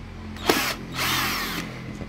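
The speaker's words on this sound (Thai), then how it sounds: "ไขควงแบบนี้ก็จะเร็ว" A power screwdriver backing screws out of the headlight housing on a Honda Click 125i scooter, two loud, close whirring bursts of motor noise separated by a short pause.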